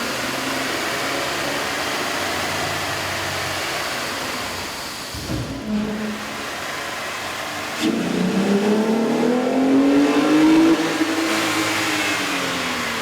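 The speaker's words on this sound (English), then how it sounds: "With the air intake installed, we ran the vehicle on the dyno to test the sound comparison versus the stock intake." 3.6L engine fitted with a K&N air intake revving on a dyno, a steady loud drone that dips briefly, then climbs and sweeps up in pitch before settling, with intake roar throughout and no talk.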